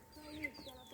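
A pet chicken clucking outdoors on a farm field, a few soft rising calls over a faint steady background hum.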